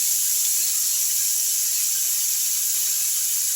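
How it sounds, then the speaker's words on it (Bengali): Prawns rubbed with salt and turmeric frying in mustard oil in a pan over a low flame, a steady, loud and close sizzling hiss without pause. "দিয়ে আমি চিংড়ি মাছগুলো দিয়ে দিলাম ভাজার জন্য"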